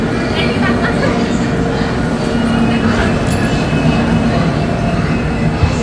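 An express train stands at platform 2, with another MEMU train waiting nearby, giving a steady, loud rumble and hum that holds without a break for the whole stretch. No one speaks.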